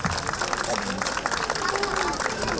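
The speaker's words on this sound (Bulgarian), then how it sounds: "Нека да изпратим аплодисменти." Audience applause at an outdoor folklore festival in Kavarna, a broad, steady wash of many hands clapping throughout, with crowd murmur mixed in.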